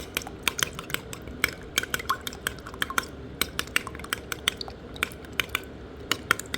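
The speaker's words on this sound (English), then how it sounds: "crack an egg into the blueberry and then mix it until completely combined" A utensil clinks and scrapes in quick irregular strokes against a bowl while an egg is stirred into mashed blueberries, close and fairly quiet.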